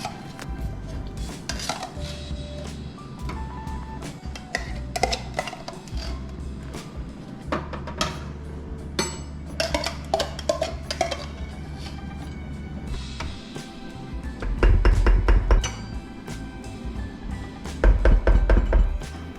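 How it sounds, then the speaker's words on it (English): A spoon knocks and scrapes around a bowl while pumpkin biscuit dough with canned pumpkin puree is mixed, giving irregular thunks and clinks near at hand, with two louder bursts of rapid thumping near the end. "I tried mixing it in with a spoon and I just found it wasn't working well"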